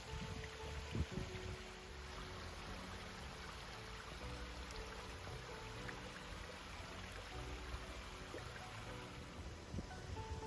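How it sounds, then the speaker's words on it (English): Water fed from Lake Biwa flows and trickles through a Japanese circuit-style garden, a soft, continuous babbling wash heard alone at low level with faint scattered splashes. "Wherever you are in this garden, you can hear the sound of water"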